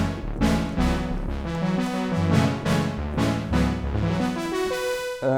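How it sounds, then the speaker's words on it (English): A Sequential Prophet-10 synthesizer plays lush 1980s-style chords, a run of rich polyphonic stabs with swelling, bright attacks in a steady rhythm, loud and close with no voices. "so what can I say about the Prophet 10?"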